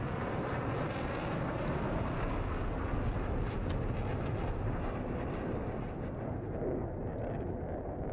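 F-16 and F-18 jet fighters in a video game roar continuously overhead, a dense, loud rumbling wash of engine noise with occasional sharp higher bursts, no voices.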